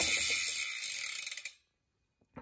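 Rapid clicking of a new, unmodified 3-pawl DT Swiss 370 bicycle hub freewheel that gradually slows and dies away after about a second and a half, close and fairly quiet.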